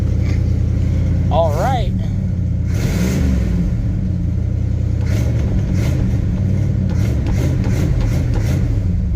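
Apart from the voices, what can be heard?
1973 Cadillac Coupe de Ville engine revving then idling down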